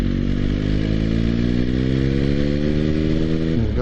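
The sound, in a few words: motorcycle changing down two gears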